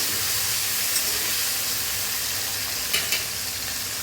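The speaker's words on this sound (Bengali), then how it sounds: "এটার মধ্যেই আমি এই টমেটোটা দিয়ে দিলাম। এটাকে একটু নাড়িয়ে চাড়িয়ে গলিয়ে নেব" Tomato frying in hot oil in a pan for a Bengali pabda fish curry, a steady close sizzle with soft hiss and a few light scraping stirs, no talking.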